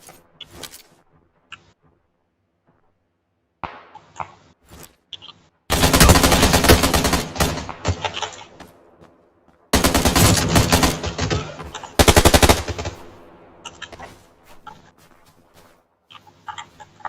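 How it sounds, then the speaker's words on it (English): Gunfire in the battle royale game PUBG: loud automatic bursts in two long strings and a shorter one, separated by quieter gaps with scattered single shots. "Someone is shooting me."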